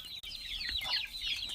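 A hen tends a large brood of about 80 chicks, with close, high-pitched cheeping and chirping from the chicks over low clucking from the hen.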